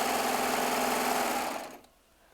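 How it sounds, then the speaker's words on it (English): A Baby Lock serger sewing a 4-thread overlock with its built-in knife trimming, a steady, close mechanical whir that runs for under two seconds and then cuts off abruptly. "while I'm doing a 4-thread overlock"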